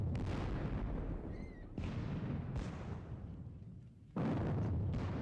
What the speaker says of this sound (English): My square continues to get shot by Russian artillery.